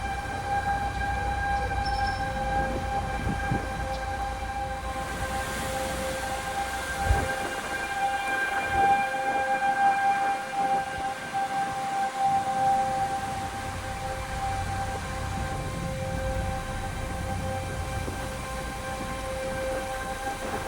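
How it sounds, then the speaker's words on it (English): Tornado sirens wail steadily during a storm in Lubbock, Texas, a sustained distant droning tone over rushing wind and rain that continues unbroken throughout. "Sirens are still going off."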